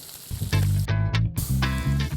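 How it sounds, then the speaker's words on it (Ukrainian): Fish and shrimp fry hard in a hot pan, a loud continuous sizzle and crackle that swells and dips in short bursts, close up with no voices. "Е, риба і креветки смажаться дуже швидко, нам не треба їх висушувати, просто щоб сформувалась скоринка."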